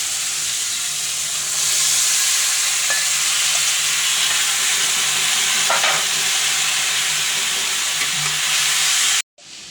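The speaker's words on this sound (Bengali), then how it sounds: "দিয়ে দিই পুঁই শাকটি" Malabar spinach stir-frying with spices, green chilies, oil and shrimp in a pan, a loud, continuous sizzle and hiss with faint stirring clatter that cuts off abruptly near the end.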